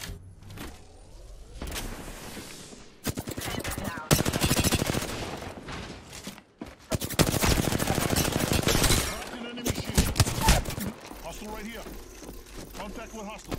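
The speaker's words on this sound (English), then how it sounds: "Taking fire" Gunfire in Apex Legends, bursts of automatic rifle fire cracking loudly in dense volleys with short gaps between them, mixed with game effects and a voice talking over parts of the fight.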